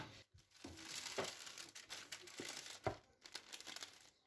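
Sablé dough is rolled out with a rolling pin between two sheets of parchment paper, making close, irregular crinkling and crumpling rustles in repeated strokes with brief pauses and no voices.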